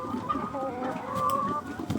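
Chickens cluck steadily nearby in a litter-floored coop, several birds overlapping in a continuous low chatter.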